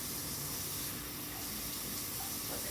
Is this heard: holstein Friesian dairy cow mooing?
no